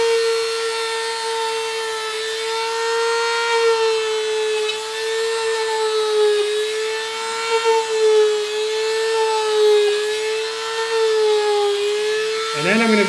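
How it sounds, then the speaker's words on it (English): Dremel rotary tool cutting plank lines into a foam shield, giving a steady high-pitched whine that wavers slightly in pitch as the bit moves, loud and close throughout. "I'm going to take the Dremel tool, and I'm just going to add a plank."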